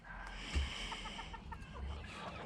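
A silkie rooster crows faintly in a farmyard, a brief muffled call standing out just above steady background noise, with no talking.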